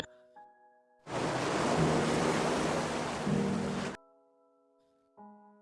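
Waves wash onto a beach in one broad roaring surge lasting about three seconds, loud and full, with soft sustained music tones before and after it.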